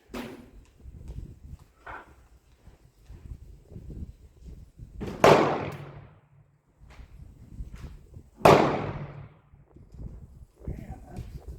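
Two loud, sharp reports from a Remington Rolling Block rifle chambered in 7mm Mauser, spaced a few seconds apart, each ringing out briefly amid low outdoor background noise.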